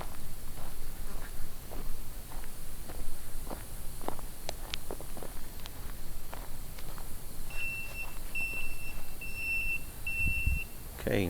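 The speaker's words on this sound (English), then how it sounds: "there the beep just went off. He's in the warning zone." A GPS wireless dog fence collar sounds a warning beep as the dog enters the warning zone outdoors, short repeated electronic tones over footsteps and steady background noise, with a voice faintly heard.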